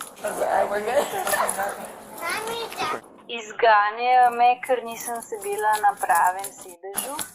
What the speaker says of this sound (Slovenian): to je pes.